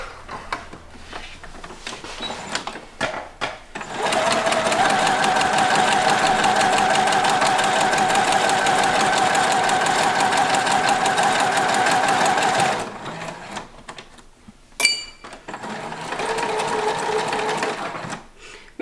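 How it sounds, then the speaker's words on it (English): Domestic sewing machine top-stitching around a pleated fabric face mask, a loud steady whir running unbroken for about eight seconds, with shorter bursts of stitching, pauses and clicks as the fabric is turned at the corners. "now I'm just going to top stitch all the way around the mask and pivot at the corners"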